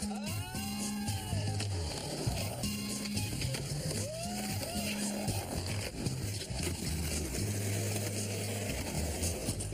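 Skateboard wheels rolling over pavement with rattling clacks and board impacts during street skating, loud and close amid road noise and scattered voices, with a steady low hum in the background.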